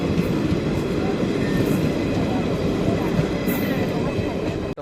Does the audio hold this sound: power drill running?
no